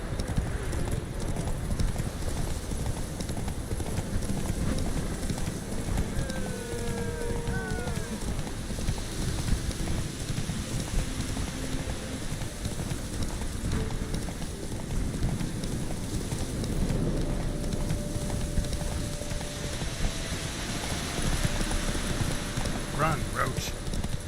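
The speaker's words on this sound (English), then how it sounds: "Run, Roach" Horse hooves clip-clop at a steady gallop in The Witcher 3 video game, with wind noise and a steady bed of game sound and music; a voice speaks briefly over the running hoofbeats.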